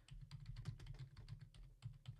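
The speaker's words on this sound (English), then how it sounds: "I'm typing on the keyboard." Typing on a computer keyboard, with quick irregular clicky keystrokes close by and fairly quiet, sounding alone over a short burst.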